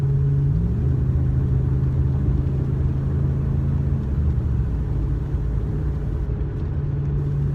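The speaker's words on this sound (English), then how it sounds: "Just cruising down the road about 70 right now" A 2003 Chevrolet Silverado truck cruising at about 70, its engine and exhaust giving a steady low droning rumble inside the cab, with a brief pitch shift early on and no voices.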